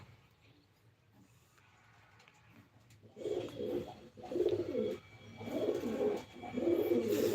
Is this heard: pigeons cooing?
yes